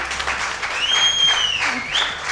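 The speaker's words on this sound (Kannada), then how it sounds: "ಜೋರಾಗಿ ಚಪ್ಪಾಳೆ ತಟ್ಟಿ" An audience at a Kannada TV reality show applauds after a dance performance, a steady burst of clapping at close range with a bright whistling tone sliding over it partway through.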